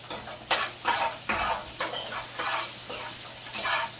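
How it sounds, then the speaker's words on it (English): A bay leaf and two cinnamon sticks fry in oil for a Guyanese-style curry, crackling steadily while close, rhythmic stirring strokes rise and fall about every half second. "I'm training my bay leaf and my 2 sticks of cinnamon spice out to fry up a little bit."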